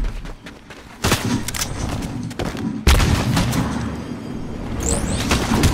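Gunfire in the Fortnite video game, several sharp loud shots and booming blasts at irregular intervals over a dense game soundscape, with a brief whooshing effect near the end and no talk.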